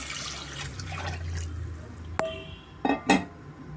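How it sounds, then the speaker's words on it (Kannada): Water is poured into a pot of mutton leg soup masala: a short watery rush over a low sizzle, then a sharp metallic clink and two brief splashing bursts near the end. "ನೀರು ಸುಮಾರು 1 ಲೀಟ್ರ್ ಆಗೋಷ್ಟು ನಾನು ನೀರು ಸೇರಿಸ್ಕೊತಾ ಇದ್ದೀನಿ."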